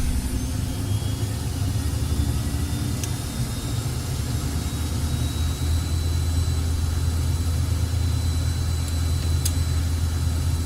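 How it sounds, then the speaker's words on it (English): A Learjet 35 jet engine in the Flight Simulator X game spools up into a continuous heavy low roar with a thin steady whine above it, two faint clicks along the way, no talking. "Then your engine starts."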